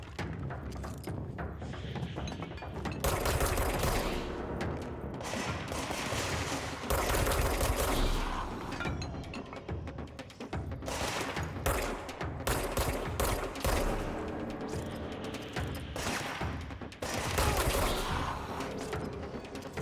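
Rapid bursts of gunfire from a weapon in the game Control, loud and dense, with snappy repeated shots and mechanical clatter running almost without pause, no talking over it.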